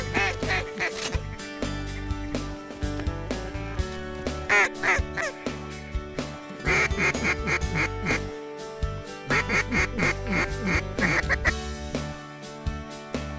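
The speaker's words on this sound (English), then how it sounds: "hey, we got more ducks" Ducks quack repeatedly in bursts during a hunt on Kansas water under a tree canopy, loud and close with layered calls, some sounding like hand calls, mixed with faint background voices.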